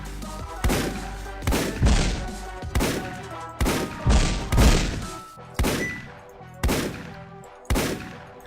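Gunfire in the video game Paranautical Activity: a steady series of about nine heavy, booming shots spaced under a second apart, each with a loud thudding attack and decaying tail, with no talk over them.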